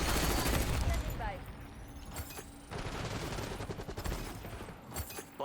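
Dense automatic KSV gunfire in Black Ops 6 gameplay, with loud continuous bursts and a short lull midway, while someone talks over the shooting.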